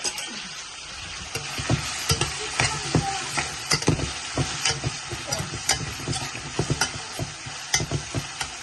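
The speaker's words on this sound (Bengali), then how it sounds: "এখন অনিয়ন কষবো" Onion fried with bay leaf and salt in oil sizzles steadily in a pan while a spoon scrapes and stirs it in frequent close clatters, with no voices.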